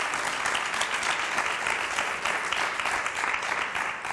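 Steady, dense applause from a TV quiz show studio audience for a contestant who got the answer right, unbroken and fairly loud from start to finish with no voices over it.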